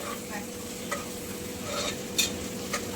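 Cabbage, onion, capsicum and carrot stir-fried in oil, with a steady low sizzle and a few scraping stirs of a spatula against the pan, close and moderately quiet, no talking.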